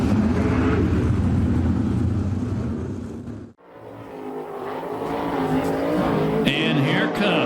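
A sprint car engine roars loud and close on a dirt oval at Perris, California, a sustained high-revving drone that dips briefly as the car passes, then builds again with tire noise and faint crowd voices.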